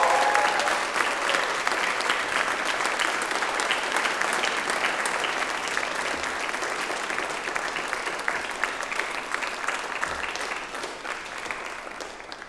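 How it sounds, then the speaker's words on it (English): A large audience at a UK university ceremony applauds continuously, with dense, steady clapping and some cheering, loud and sustained for the whole stretch and gradually easing slightly toward the end. "Please show your appreciation to the people who have supported you. Clap, cheer, whistle."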